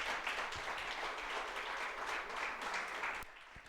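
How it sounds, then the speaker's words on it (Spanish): A church congregation applauds in praise, a steady wash of clapping that holds for about three seconds and then drops off sharply. "Un aplauso al Señor"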